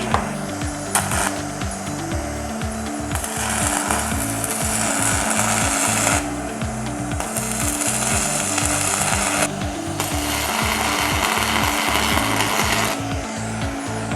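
A 160 amp handheld welding machine set to 85 amps welds with a thin rod, giving a loud, steady crackling buzz. A rapid pulsing chatter runs beneath it, broken by short pauses between welds.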